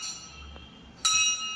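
A temple bell at a Datta temple in Mohol rings once with a bright metallic strike, after a quiet stretch of faint background.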